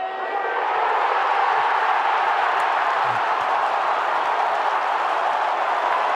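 A big crowd cheers and roars at a Richmond versus Brisbane AFL match after a late sealing goal, a loud sustained wash of noise with scattered clapping that holds steady throughout.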